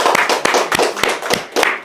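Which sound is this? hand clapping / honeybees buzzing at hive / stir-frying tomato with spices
hand clapping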